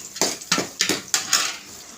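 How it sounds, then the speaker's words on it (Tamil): Onions sautéing in oil in a pan with mustard seeds, stirred by a utensil that clanks against the metal in five distinct strikes about a quarter second apart, close and clear over a faint background hiss. "எண்ணெய் ஊற்றியாச்சு கடுகு நம்பர் போட்டுக்கலாம் வெங்காயம் போடுமா உள்ளே வெங்காயம் போட்டாச்சு நல்லா வதக்கிக்கலாம்"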